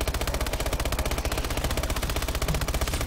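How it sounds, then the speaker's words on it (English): Rapid automatic gunfire in the Exo Zombies mode of Call of Duty: Advanced Warfare, a steady, evenly spaced stream of loud close shots running throughout without pause. "Open fire!"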